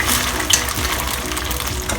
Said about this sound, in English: So I'm just pan frying the chicken and the mushroom onto this oil